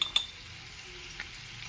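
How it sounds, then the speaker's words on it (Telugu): Chicken liver curry with salt and garam masala gets stirred in a pot, two quick metallic clinks of a spoon at the start and a softer tap later over a faint low background. "ఈ ఉప్పు ఈ మసాలా ఇవన్నీ కలిసేటట్టు ఒకసారి తిప్పేసుకుని"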